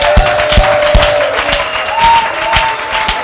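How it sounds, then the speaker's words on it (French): A church congregation claps together in a steady, rhythmic beat of sharp hand claps, loud and full, with a sustained musical tone ringing underneath. "Applaudissons pour le Seigneur"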